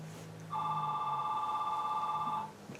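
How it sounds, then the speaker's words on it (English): A phone rings with a bright electronic tone, one sustained ring of about two seconds, moderately loud over quiet room noise; the caller is a telemarketer. "Oh, my phone."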